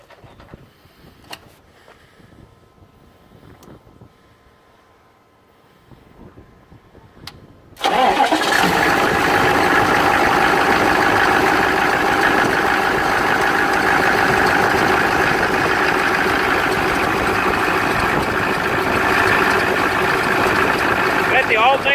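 A Detroit 6.5L diesel engine that blows smoke sits quietly with faint handling noises, then cranks and fires up, settling into a loud, steady, rumbling idle close by.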